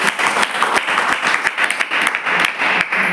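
A church congregation claps loudly in steady, rhythmic unison, sharp regular claps filling the room continuously.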